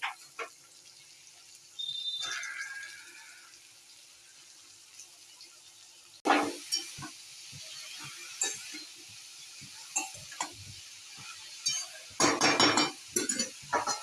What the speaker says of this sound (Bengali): এখন দিয়ে দিতে হবে কেটে রাখা বাঁধাকপিগুলো।